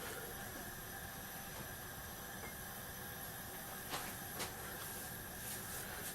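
Naan bread laid into a hot frying pan, giving a steady, broad sizzling hiss that runs throughout, with a couple of faint clicks near the end and no talking.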